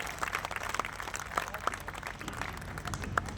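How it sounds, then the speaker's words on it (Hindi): An audience at a Hindi comic poetry gathering claps for a humorous poet, scattered and uneven hand claps with a few sharper individual claps standing out. "सारा सदन हाथ उठाकर तालियां बजाए"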